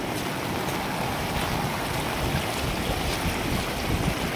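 A swollen river in flood after heavy rain rushes as a dense, continuous roar of churning water with wind noise buffeting the microphone; no talking.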